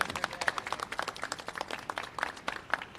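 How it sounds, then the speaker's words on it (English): A room gives a round of applause at a press event about an audit of remote learning, a brief burst of moderate clapping from a small crowd with distinct rapid hand claps. "Give Wayne a round of applause."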